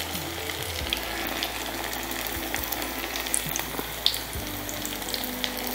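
Appam frying in very hot oil, a steady dense crackling sizzle throughout with scattered sharper pops, close and fairly quiet, no voices.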